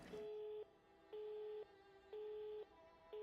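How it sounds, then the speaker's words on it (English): A European-style telephone tone from the video game Rise of Insanity: a steady electronic beep that repeats in even on-off pulses, clear and moderately quiet over a faint background hum. "That's a European phone ring, isn't it?"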